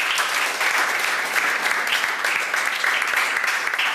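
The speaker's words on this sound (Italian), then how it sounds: "Fatevi un applauso." Young Under-12 football players and those around them applaud loudly and continuously, a dense steady wash of clapping close by.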